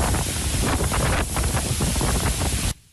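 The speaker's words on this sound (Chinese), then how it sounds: "风太大，雨太大，没办法。" Typhoon Krathon's storm winds in Kaohsiung roar as a dense, continuous rush buffeting the microphone, loud and unbroken before cutting off abruptly near the end.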